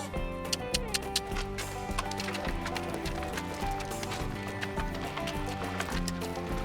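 A saddled horse being walked outdoors at an outfitter training camp, its hooves clip-clopping in a steady rhythm with a few sharper hoof strikes, under dense background music.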